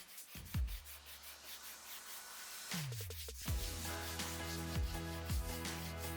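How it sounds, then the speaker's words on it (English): Wood filler on a TV stand is sanded by hand with 220 grit sandpaper, soft scratchy rubbing strokes close up, accompanied by several faint knocks and a steady low hum. "I sanded the excess wood filler down with 220 grit sandpaper"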